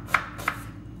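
Two sharp knife chops through an onion on a cutting board, evenly spaced and close, alone against a quiet room tone.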